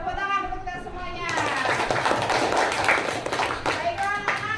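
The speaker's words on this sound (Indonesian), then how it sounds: "Tepuk tangan untuk kita semuanya." Schoolchildren in a classroom clap together in a dense burst of applause after a short lead-in of voices, the hand claps loud and close for a few seconds before fading into scattered claps.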